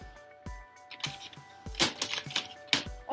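Dollar Tree makeup products, such as lipsticks, being turned upside down and shuffled on a table, giving a quick run of light plastic clicks, taps and rattles, close and fairly loud, with no talking.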